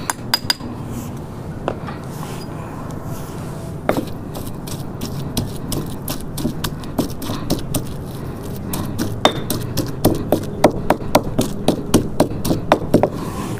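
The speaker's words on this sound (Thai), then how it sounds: "หลังจากที่ตำพอหยาบๆใกล้ละเอียดเตรียมใส่กะปิเข้าไปครับ" Shrimp paste and curry paste pounded in a mortar, a run of sharp, rhythmic knocks that grows quicker and louder toward the end.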